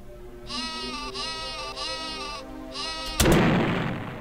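Bleating sheep weapon from the video game Worms Armageddon, several loud wavering bleats in a row followed by a sudden heavy explosion that slowly fades.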